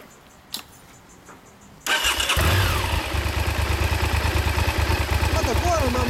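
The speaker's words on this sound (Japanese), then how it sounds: "どうぞエンジンかけて。" Honda VTR1000F Firestorm (SC36) V-twin motorcycle starts up nearby, a sudden loud catch after quiet, then settling into a steady, throbbing idle with a low rumble; faint voices are heard briefly before the start.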